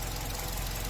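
Car engine idling with a control-system fault flagged by the ECM, linked to a stalling problem: a steady, close low rumble with a regular throbbing pulse that holds evenly for the whole second, with no talk.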